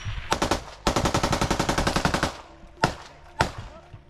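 Automatic machine gun fire in combat during a close-range firefight: a sustained rapid burst of shots lasting over a second, followed by two separate single loud bangs, close and loud.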